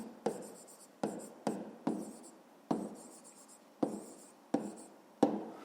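Pen strokes on paper while a maths solution is written down by hand: seven or so short scratchy bursts, each starting with a sharp tap, spaced irregularly about a second apart, close and quiet, with no talking.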